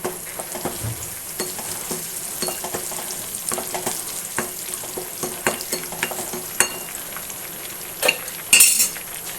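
Curry leaves sizzle in a pan with tapioca and beef, a steady close crackle of frying under frequent scrapes and clinks of a spoon stirring against the metal.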